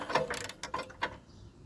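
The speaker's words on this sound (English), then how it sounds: "get your spark plug socket and ratchet on this actual spark plug, and then just take her out" A ratchet clicks in short bursts as it loosens a spark plug on a snowblower, a handful of quick, faint mechanical ratcheting strokes close by with no talking.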